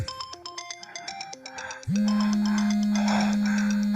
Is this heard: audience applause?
no